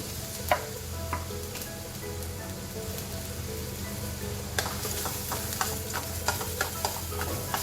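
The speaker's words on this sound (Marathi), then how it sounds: "आपल्याला ह्या तेलात गाजर आणि कांदा परतून घेत आहे तेलामध्ये" Carrots and onions sputter and hiss in hot oil as they are stirred, with a steady close sizzle and scattered sharp crackles and pops, no voices.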